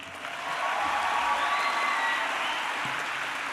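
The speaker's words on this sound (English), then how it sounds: "can we just take a moment to give Kiara a round of applause" Audience applause at a high school graduation ceremony for the class of 2022, a steady wash of many hands clapping together that swells in the first half-second and holds evenly throughout.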